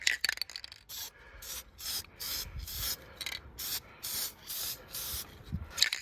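A power steering pump from a 1979 Chevrolet Camaro gets a coat of aerosol spray paint: a series of about eight short, close hissing bursts with brief pauses between them, and no talking.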